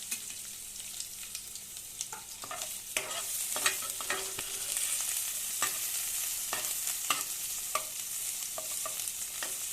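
Ginger, garlic, spices and dried chillies fry in hot oil with a constant sizzle, punctuated by scattered clicks and scrapes of stirring.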